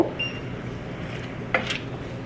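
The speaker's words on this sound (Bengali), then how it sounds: "এবারে এই মশলাগুলোকে সব একবার মিশিয়ে নেব" A spoon stirs ground coriander and cumin powder together in a bowl while making egg curry. Soft, faint scraping runs throughout, with a brighter metallic clink partway through.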